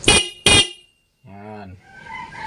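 Two short, sharp beeps from a stock car horn blare close by, followed by quieter tones and some faint mechanical noise.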